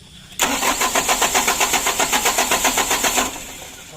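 Mitsubishi Canter 136 PS HDL diesel truck engine cranking with a steady, rapid rhythmic starter pulse for about three seconds, loud and close, then easing off as the engine catches, with no one talking.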